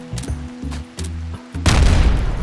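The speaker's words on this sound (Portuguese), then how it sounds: "Vai, Ipo, dá uns tiros bons aí, por favor." Gunfire in the video game RimWorld: a few rhythmic low booming bursts, then a louder, dense burst of shots that fills the final second.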